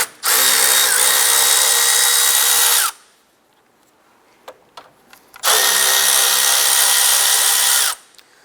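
A power tool runs on the 10mm radiator cooling fan bolts of a 2007-2012 Nissan Versa: two loud, steady whirring bursts of about three seconds each, separated by a quiet gap with a few small clicks.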